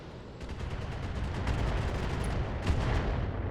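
Mech weapons fire in the BattleTech video game, a run of dull booming gunfire blasts rising in loudness with several sharp reports, heard alone without talk.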